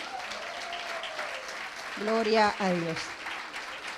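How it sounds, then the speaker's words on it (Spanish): Congregation applause rings out in a church service, a steady wash of clapping that continues beneath a brief spoken exclamation from a voice. "Eso merece un aplauso."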